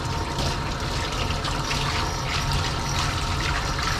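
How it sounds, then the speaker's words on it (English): Water runs steadily down a drain after a dirty schnauzer is rinsed, a continuous close gurgling wash with no voices. "look at that water going down the drain there"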